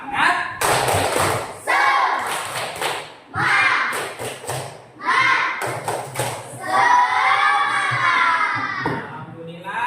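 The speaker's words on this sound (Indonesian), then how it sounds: "Tepuk semangat." A class of children claps out a rhythmic spirit clap in bursts of sharp, close thuds, chanting along between the clap patterns.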